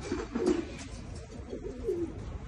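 Pigeons cooing in a home loft, low throaty coos repeating in soft rolling phrases close by against a steady background.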